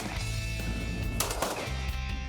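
Gunfire cracks out in quick succession at a civilian and military shooting competition in Sorong, sharp reports mixed with outdoor background noise.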